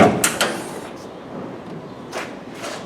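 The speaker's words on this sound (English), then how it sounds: "I'll open this door up." A metal access door on farm machinery, a baler with chain drives and a gearbox, slides open with short scraping and rattling bursts at the start and again near the end, close and fairly loud.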